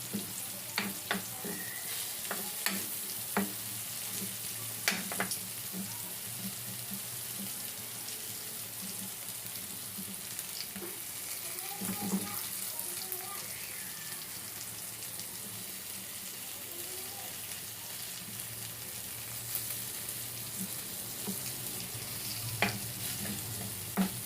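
Food sizzles quietly in a pan in a home kitchen as it browns, with soft scraping stirs and occasional clinks over the steady frying hiss.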